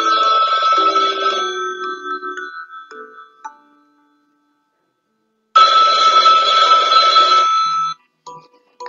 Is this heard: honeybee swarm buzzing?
no